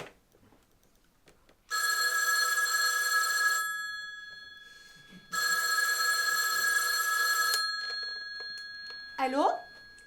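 An old telephone bell rings twice in long, loud, bright bursts separated by a pause, then a brief rising voice is heard as it is picked up.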